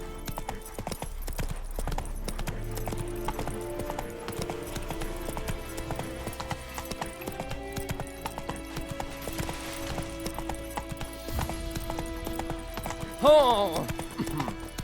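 Galloping hooves of a horse in The Witcher 3 pound in a fast, continuous rhythm, close and steady across the whole stretch, with a brief swell near the end.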